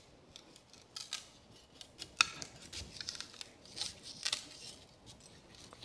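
Hard outer husk being peeled off a sugar cane stalk with a blade, faint close scraping and crisp snapping strokes at an uneven pace.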